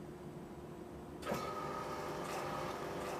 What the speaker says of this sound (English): And you would hear the pumps come on.